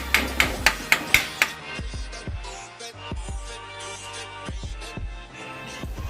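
A utensil knocks against a pan while mixing mashed potato masala for Gujarati bun dosa, opening with a quick run of sharp, loud knocks, then scattered softer taps and clinks.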